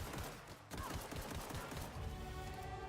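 Pistol fire in the sci-fi game The Outer Worlds: a quiet stretch of rapid, rhythmic shots and impacts blending into dense, crackling action noise.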